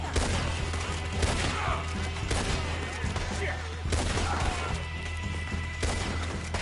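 Gunfire rattles through a Red Dead Redemption 2 shootout, sustained volleys of shots with bursts of crashes, fairly distant and muffled, continuous across the stretch.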